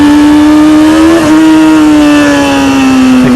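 A motorcycle engine revs hard and close while the rider slips the clutch to lift a wheelie, holding a loud steady howl that climbs slightly, dips briefly, then sags in pitch as the revs drop.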